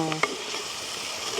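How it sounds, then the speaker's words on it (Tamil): Dried squid sautéing in oil in a pan, a brief soft sizzle with a light clink at the start and no voices. "இப்போ கொஞ்சம் அப்படியே இந்த எண்ணெயில் வதங்கி கொண்டு வரட்டுங்க கருவாடு"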